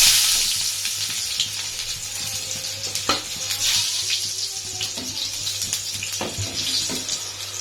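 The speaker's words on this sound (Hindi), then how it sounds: "लहसुन का तड़का ज़बरदस्त खुशबू के साथ" Garlic tempering sizzling in hot oil for cooked masoor lentils, a close, continuous crackling hiss with a few sharp pops and stirring clatters, no talk.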